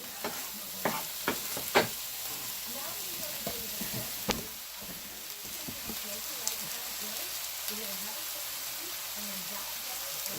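Browned garlic frying in a pan is stirred with a small utensil, giving scattered scraping clicks over a steady soft sizzle, with louder scrapes early on.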